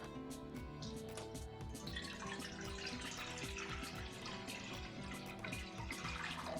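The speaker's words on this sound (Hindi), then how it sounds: "मैंने एक अदद कढ़ाई ली है, उसमें 1 लीटर पानी डालूंगी" About a litre of water poured into a kadhai for steaming chicken, a quiet, steady splashing trickle with some dripping, heard close up and without talk.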